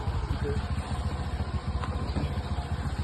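Motorcycle carrying three riders on an outing, its engine putting out a steady low rhythmic putter throughout, fairly close.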